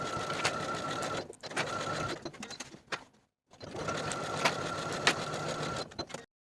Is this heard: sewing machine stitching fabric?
yes